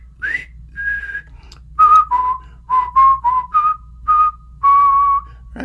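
A person whistles the Colonel Bogey March, a bright melody of sustained and short notes in phrases with brief pauses between them, close and clear against a faint low hum.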